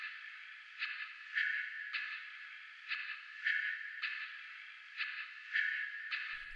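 Atmospheric sample played in a sampler at F3, pitched slightly above its original pitch and soloed; a thin, band-limited tone pulsing in regular swells, fairly quiet and alone.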